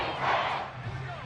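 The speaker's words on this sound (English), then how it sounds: "This crowd turning up the decibel level." A stadium crowd at an NFL football game between the Seahawks and Steelers in the final minute gives a loud, continuous, broad roar that swells briefly and then holds.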